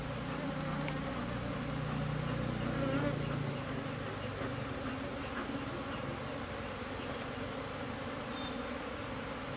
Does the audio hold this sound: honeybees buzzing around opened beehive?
yes